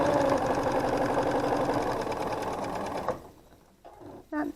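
Sewing machine stitching quilt half-square triangles, a steady close rapid mechanical whir for about three seconds before stopping, followed by faint handling noises.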